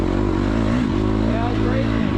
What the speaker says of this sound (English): I hear a bike coming up behind me.